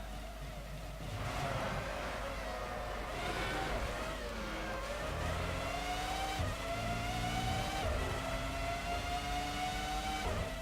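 Formula One 2005 racing game audio at the Brazil circuit: a high-pitched F1 engine whine climbs and shifts steadily through gears, continuous and loud for the whole stretch, with other cars droning around it and no talk.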